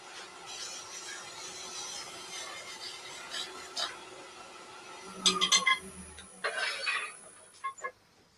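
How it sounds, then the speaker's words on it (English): A turned piece of jewellery is sanded by hand, giving faint, quiet rubbing and rasping strokes that come in short bursts toward the end. "Get that sanded."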